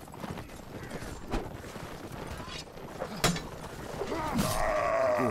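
Hoofbeats clatter steadily from a slow horse in Mount & Blade Warband's Total Battle mod, a close galloping rhythm broken by a couple of sharp impacts, with a rising metallic swish near the end.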